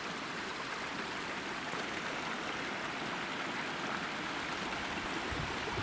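Steady rushing water from a stream or small cascade fills the clip, continuous and close, while a water bottle is filled on a mountain trail; no voices.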